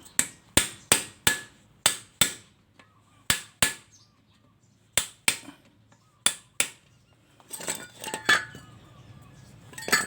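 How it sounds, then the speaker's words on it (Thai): A flat screwdriver struck repeatedly with a hammer to drive out a washing machine motor: a run of sharp, loud metallic blows at an uneven pace, then busier clattering and scraping of metal parts. "ผมก็จะตอกลงแบบนี้เลยนะครับ เอาไขควงแบนนี่แหละครับ"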